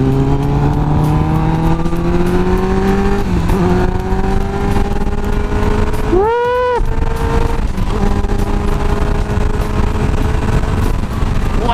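A Kawasaki Ninja ZX10R 1000 cc motorcycle accelerating hard on a straight road, engine pitch climbing steadily through the gears, with one fast quick-shifter upshift and a loud, close, continuous roar throughout.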